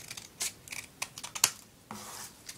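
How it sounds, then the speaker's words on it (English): Scissors cutting paper for a homemade paper gun: a handful of short, crisp snips and rustles in an irregular rhythm, close and fairly quiet, with no talking. "so I'll just cut it right here."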